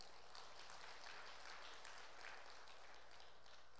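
Church congregation clapping together in a sanctuary, a faint, steady wash of many hands with no talk over it.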